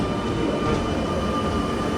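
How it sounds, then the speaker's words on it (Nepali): A train pulls away from a station with a steady, loud rumble of rolling wagons and wheels, continuous and close throughout. "ट्रेनले मलाई छोडेर गयो"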